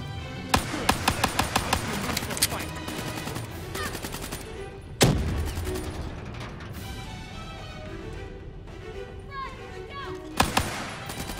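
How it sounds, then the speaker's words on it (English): Gunfire in Black Ops 3: rapid bursts of automatic shots in quick rhythmic strings, with a heavier blast near the middle and more bursts later, while people talk over the fighting. "they're already shooting"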